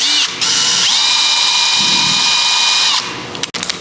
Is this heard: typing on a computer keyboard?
no